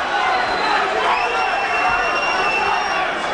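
Boxing crowd at a fight between Michael Moorer and Vassiliy Jirov roars and cheers steadily, a dense sustained wall of voices with whoops rising over it as one fighter goes on the attack.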